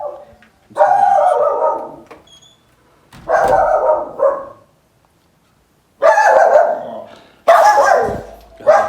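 A dog barks loudly and close by in long, harsh bursts separated by short silences, sounding agitated.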